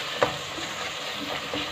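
Chopped green chillies frying in a pan, a brief steady sizzle with a sharp tap of a spoon near the start, close by and without talk.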